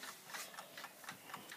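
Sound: ticking of a 1929 Waterbury clock

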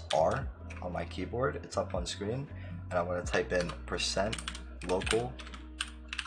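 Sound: typing on a computer keyboard

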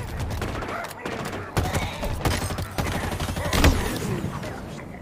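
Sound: grenade explosions in Halo Infinite video game

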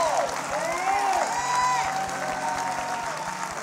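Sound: congregation applause, clapping hands

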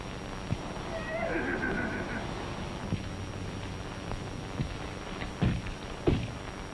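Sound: horse neighing

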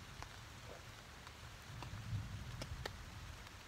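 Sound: light rain and distant thunder in the forest

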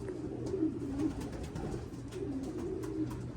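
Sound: birds calling

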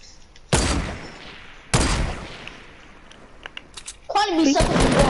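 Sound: gunfire in the video game Fortnite

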